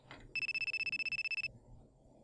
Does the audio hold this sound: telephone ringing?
yes